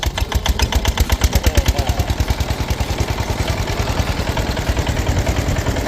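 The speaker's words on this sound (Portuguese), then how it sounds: "Eles nunca viram o que é motor de sisal. Vou mostrar para vocês. Vai virar o motor." A sisal fibre processing engine starts up and runs, a loud, close mechanical chugging with rapid regular pulses and metallic clatter that settles into a steady running rhythm.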